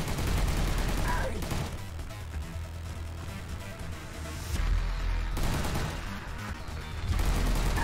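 Rapid machine gun fire in the video game Furry Apocalypse, loud dense bursts of automatic shots that swell and ease in waves over a constant heavy rumble.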